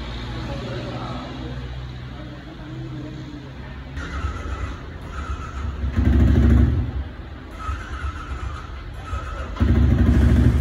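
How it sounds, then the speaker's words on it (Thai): A Yamaha R15 motorcycle with a fault that makes it bog down and refuse to accelerate cranks and catches after being refuelled. Low engine bursts swell up twice near the end, over steady background noise and a voice. "มาดูกันว่าจะสามารถสตาร์ทติดหรือเปล่านะครับ"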